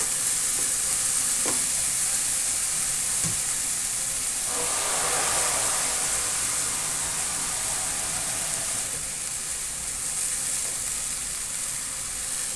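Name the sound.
mung beans being sautéed in a pan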